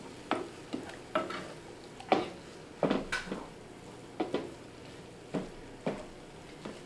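Textured vegetable protein soaked in water is stirred in a pan, giving a slow series of soft scraping strokes roughly every half second to second, close and moderately quiet with no talk.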